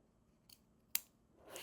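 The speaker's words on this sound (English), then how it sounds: "I put a small snip at the corner." Scissors make a small snip at the corner of zipper tape during sewing of a lined boxy bag, heard as a few faint light clicks followed by one sharp, close cut.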